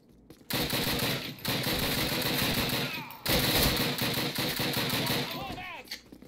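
Dense, loud gunfire rattles through a firefight in the video game Call of Duty, sustained rapid bursts broken by two brief pauses.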